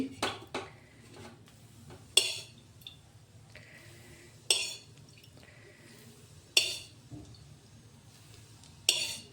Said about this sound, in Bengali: এখন আস্তে আস্তে করে মশলার মধ্যে দেবো এক চামচ এক চামচ করেই তুলে দিচ্ছি